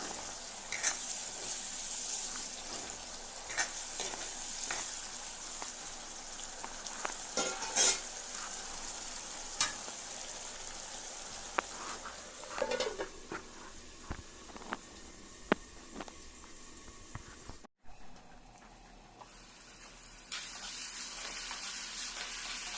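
Tomatoes frying in a pan for an Assamese fish curry with radish, giving a soft, steady sizzle with occasional stirring clicks and scrapes, fairly quiet and close, with no talking.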